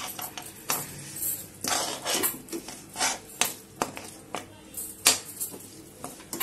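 Chilli chutney being mixed in a pan with a utensil, giving repeated close metal scraping and clinking strokes in an irregular rhythm with no talk.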